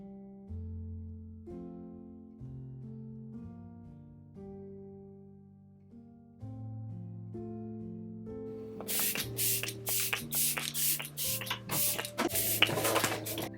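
Quick bursts of makeup setting mist sprayed from a pump bottle, a rapid series of short close hissing puffs following a stretch of soft background music that continues underneath.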